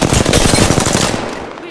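Rapid automatic gunfire in a shooter video game, a loud burst of rattling shots that tails off after about a second, with a voice faintly present.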